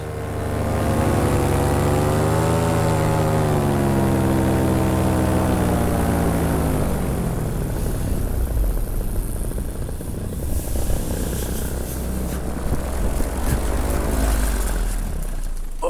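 Paramotor engine and propeller droning steadily and loudly through a flight over tall sand dunes, a continuous close buzz with slowly shifting pitch and rushing wind throughout.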